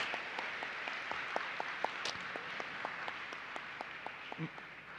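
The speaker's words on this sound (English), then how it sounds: "Can we give him a round of applause?" An audience at a university entrepreneurship talk claps in a modest, scattered round of applause, individual hand claps distinct and fairly faint in a large room.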